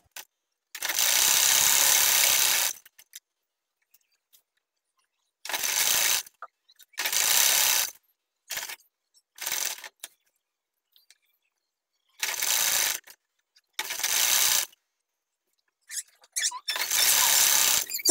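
Short, separate bursts of a sewing machine stitching ruffled fabric onto baby girl's pants, roughly seven stop-start runs of clattering whir with silent pauses between, close and clear.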